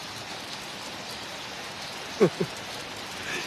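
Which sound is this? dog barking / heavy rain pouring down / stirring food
heavy rain pouring down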